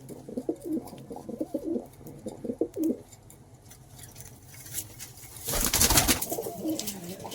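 Madras and Giribaz pigeons give a series of close, rhythmic coos in the first few seconds, then a louder rustle or flutter bursts in before softer cooing returns.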